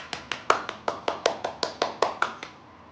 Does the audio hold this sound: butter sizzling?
no